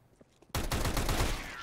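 Sudden burst of rapid gunfire in the video game CS:GO, loud and continuous after a short quiet start.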